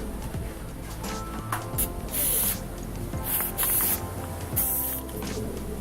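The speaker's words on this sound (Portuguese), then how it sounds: "Eu gosto de pintar com spray, né?" Spray paint hisses onto a milk-carton craft lantern in short, loud bursts, with about four sharp sprays separated by brief pauses and faint handling sounds.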